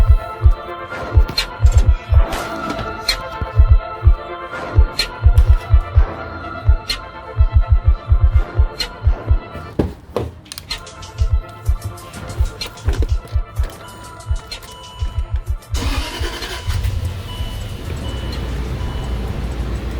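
Blower motor on a 2008 Land Rover Range Rover Sport running after being reconnected, heard as a steady hum under a series of rhythmic thumping knocks and clicks, the sound thickening into a broader whoosh near the end.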